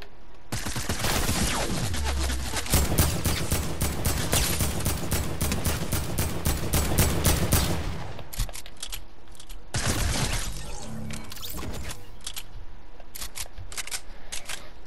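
Rapid submachine-gun bursts from Fortnite season 8 rattle nearly continuously for about eight seconds, loud and close, then break into shorter scattered volleys and single cracks.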